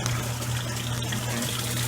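Washing water churning and gushing steadily in a laundry tub as an Avon laundry sheet is tossed in, a dense, even rush with a low hum beneath, no voice.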